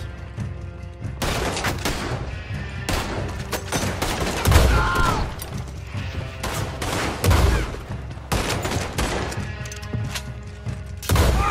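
Gunfire rips through a shootout in Red Dead Redemption 2: loud volleys of rifle and pistol shots in clustered bursts, with heavy booming thuds and brief pauses between the barrages.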